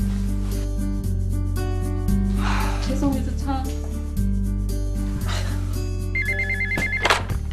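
A telephone rings repeatedly in electronic bursts over a steady backing tone, with a mechanical alert near the end.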